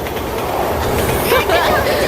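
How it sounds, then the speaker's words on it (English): A train passes by in a video game, with loud rolling rumble and rail clatter sweeping through, while a voice briefly talks over it. "There's a train coming now."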